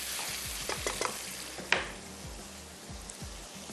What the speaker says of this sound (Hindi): इसमें मैं अब शामिल कर देती हूँ हरी मिर्चें।